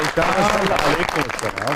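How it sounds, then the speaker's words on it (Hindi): A studio audience applauds a guest's arrival, a loud burst of clapping heard mostly beneath a host's speaking voice. "शिरोज भाई, बहुत सारी तालियां जी"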